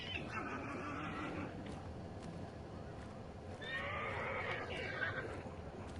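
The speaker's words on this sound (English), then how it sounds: "Why you gotta make so much noise, horse?" A horse in the video game Hunt: Showdown whinnies twice, a shrill neigh near the start and a louder, longer one later, over a steady low background rumble, fairly quiet overall.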